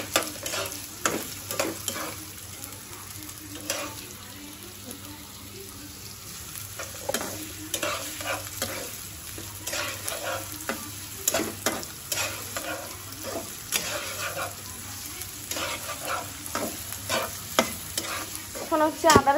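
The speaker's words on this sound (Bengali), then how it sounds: "পেঁয়াজটা এখন হালকা করে ভেজে নেব।" Onions and green chili fry in a pan, a steady sizzle broken by repeated scrapes and clinks of stirring, close and continuous for the whole stretch with no voices.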